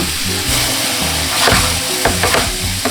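Thinly sliced pork belly being stir-fried in a pan with pepper and salt, producing a loud, close sizzle with repeated scraping stirs toward the end and no talking.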